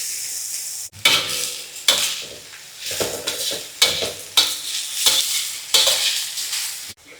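Cassava leaves with garlic, shallots and shrimp paste stir-fried in coconut oil, loud crackling sizzle broken by repeated scraping strokes of a spatula in a pan, with brief pauses between stirs and no talking.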